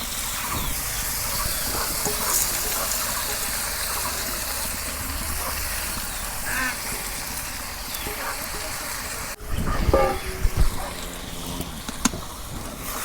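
Rice coated in turmeric sizzles and hisses in oil in a pot, a steady close frying sound with a louder stirring burst near the end.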